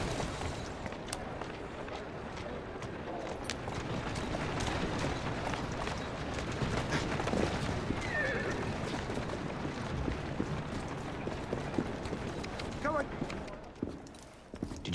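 Hoofbeats clip-clop steadily under continuous talk and background bustle in Assassin's Creed Syndicate, with a brief horse call near the end; the sound is game-like and mixed throughout.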